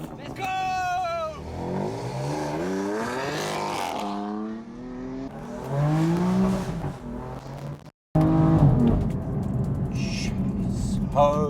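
A BMW M4 with a modified exhaust system accelerates hard, its engine note climbing through the revs in rising sweeps, briefly cutting out, then roaring on loudly from inside the cabin.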